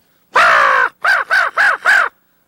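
A crow caws five times in a quick series, one long harsh call followed by four shorter ones, loud and close with no other sound; this is one of Missouri's common birds, known to feed on roadkill along highways.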